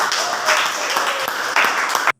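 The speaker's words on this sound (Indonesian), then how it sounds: "mari kita tepuk tangan" Classroom applause from students in a high school lesson, a short burst of dense clapping that cuts off abruptly after about two seconds.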